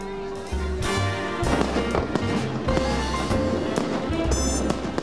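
Fireworks crackle and pop in a dense, continuous barrage at a Monaco society celebration, with a voice speaking over it.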